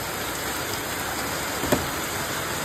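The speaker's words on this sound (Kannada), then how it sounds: "ಇನ್ನು ಮಳೆ ಬರ್ತಿರ." Steady rain falling during heavy monsoon rain, a dense even hiss throughout with one brief louder knock midway.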